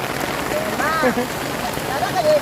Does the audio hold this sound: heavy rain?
yes